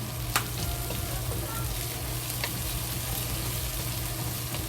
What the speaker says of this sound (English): Slowly fry until the ginger and the scallion release good smell.